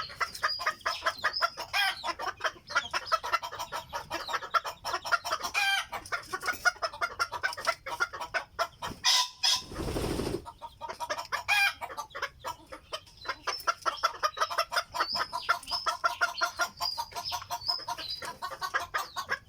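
A young laying hen that has just laid her first clutch clucks repeatedly in quick, steady bursts, close and fairly loud, with other farm chickens calling around her and no talk.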